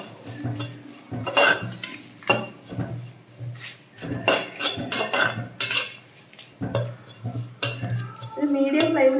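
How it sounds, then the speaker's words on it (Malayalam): Metal spoon scraping and clinking against a pan as grated coconut is roasted over medium flame for a fish curry, irregular stirring strokes close by, with a voice talking faintly at times. "ഇനി ഇത് കരിഞ്ഞു പോകാതെ നന്നായിട്ടൊന്ന് വറുത്തെടുക്കാം."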